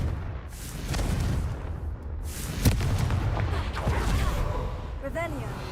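A Confringo fire-blast spell cast in the Hogwarts Legacy video game bursts with a sharp boom near the middle, over a steady low rumble of game noise, followed by a shimmering magical whoosh near the end.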